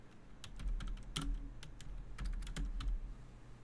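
Computer keyboard typing a search query into a design app, with quick irregular bursts of crisp key clicks at close range and short pauses between words; no one speaks.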